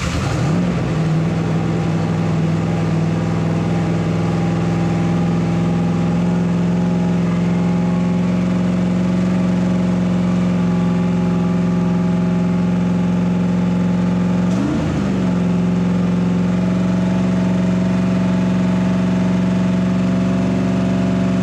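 A car engine fitted with a Dominator carburetor on its first start runs at a steady, high idle with a brief rev blip partway through, loud and close with no talking.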